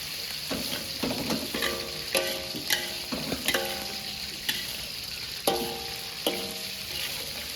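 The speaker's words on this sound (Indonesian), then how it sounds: "Goreng, masak terus." Spice paste frying in a pan for a Javanese vegetable dish, with a steady sizzle broken by repeated scraping clinks of a utensil stirring against the pan, close and fairly loud with no talking.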